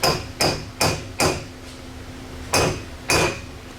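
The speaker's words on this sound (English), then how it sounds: "now we're gonna take our Torx bit. We're gonna try to drive that down in." Six sharp metallic hammer blows drive a Torx bit into a broken bolt in an aluminum part. The strikes come close and loud, four in a quick steady run, then a pause before two more.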